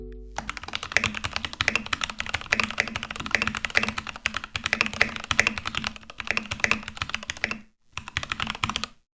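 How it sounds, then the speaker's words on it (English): Brisk typing on a Keychron K8 Pro keyboard fitted with Gateron G Pro brown switches, a steady close-up patter of keystrokes with a few short pauses and a brief gap near the end, no voices. "This comes with Gateron G Pro switches that you can get in brown, red, or blue variants. I got the browns, and here's a typing test of how it sounds."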